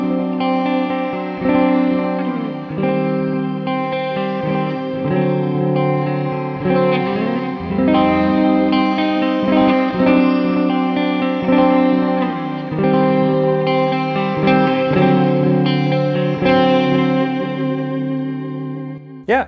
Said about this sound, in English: Yeah, the effects sound super nice,